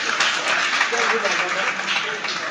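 Steady dense applause from an audience at a press conference, loud and continuous with many hands clapping at once for a couple of seconds.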